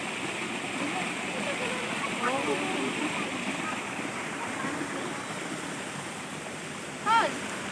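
River water in Guinhawa flowing in a steady, faint rush, with soft voices in the background and a brief chirp near the end.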